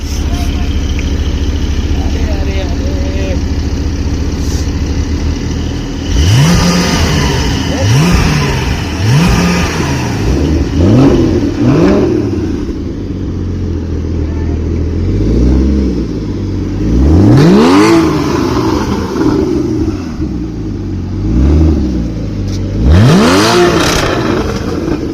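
Supercars rev their engines as they pull away in the evening, repeated rising and falling roars sweeping past one after another, loud and close, with voices chattering underneath.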